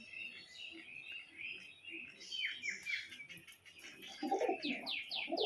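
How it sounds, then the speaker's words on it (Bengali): Male pigeon cooing close by in a home loft, soft repeated throaty coos that build into louder rolling calls toward the end, with faint chirps and quiet background murmur. "বাড়িতে একটা নতুন নর পায়রা নিয়ে এসেছি"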